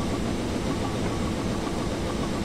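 A passing mail train in Train Simulator 2015 on Sherman Hill, a steady close rumble of rolling cars and heavy engine noise that fills the clip with a dense, even roar and no pauses.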